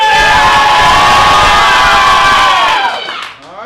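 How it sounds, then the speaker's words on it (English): An audience at a game show cheering, shouting and whooping loudly in a sustained, high-pitched roar that holds for almost three seconds before dropping off sharply. "If you think the winner is the other one, Penelope, clap now."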